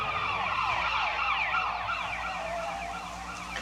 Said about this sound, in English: Sirens. More police.